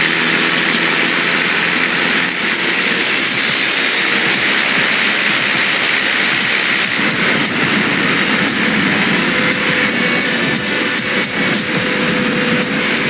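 A cargo plane's jet engines roar at full power for takeoff in the action video game Gungrave Overdose, a loud, steady whine and rumble that holds without a break, with no talk over it.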